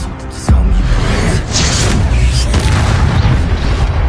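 An Incendio fire spell cast in Hogwarts Legacy on PS5 bursts with a deep booming blast, followed by a sustained roaring rumble that stays loud to the end, with no talk.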